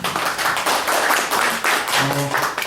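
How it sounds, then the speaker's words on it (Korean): Audience applause for a speaker at a Korean philosophy society's New Year memorial gathering: a dense, steady wash of many hands clapping that holds at full strength throughout, with a brief voice briefly audible near the end. "박수 한번 부탁드리겠습니다"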